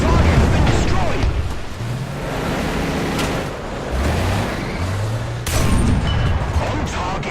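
A modified 120mm Rheinmetall tank gun firing in War Thunder, with heavy booming blasts and a dense rumbling roar filling the whole stretch, loud and close, with brief tonal sounds over the noise.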